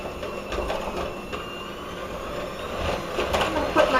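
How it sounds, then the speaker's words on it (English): An electric hand mixer runs on high, beating room-temperature eggs into Sicilian sesame seed cookie dough, a steady whirring drone with rising intensity toward the end, loud and close throughout. "I'm going to put my mixer on high"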